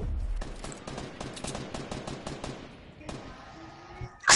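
A rapid burst of automatic gunfire crackles in a shooter video game, about a dozen evenly spaced shots, followed by a single later shot and a sudden loud blast at the very end.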